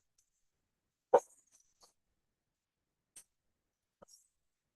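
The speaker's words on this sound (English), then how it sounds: "acknowledging this startling dog barks" A single sharp dog bark in a quiet room during an evening meditation session, followed by a few faint soft yips or breaths.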